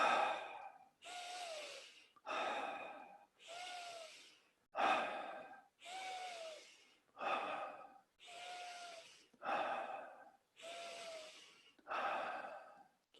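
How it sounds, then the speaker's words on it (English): Slow, deep breaths repeat about ten times in a steady rhythm, each a long airy inhale or exhale with a short pause between, close and fairly quiet, during a guided breathing exercise, with no talking. "10 deep breaths."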